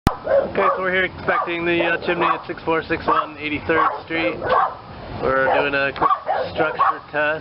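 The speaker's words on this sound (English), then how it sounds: "Apologies for the dog bark." A dog barks during a chimney structure inspection at a house in Westchester, its yaps mixed in under a man's steady, close talking.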